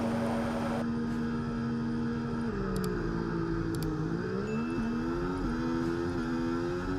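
In the F1 24 racing video game at Monaco, cars launch from the race start with a steady engine drone that dips and then climbs in pitch, heard without talking.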